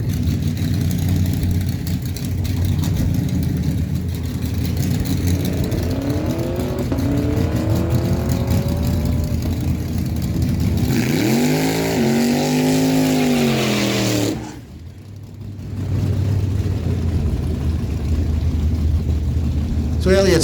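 A Chevy Camaro and a 1998 Dodge Dakota drag race at a dragstrip. Engines drone steadily, then one rises in a sharp, loud rev that sweeps up and fades, with crowd ambience and a track announcer talking over it.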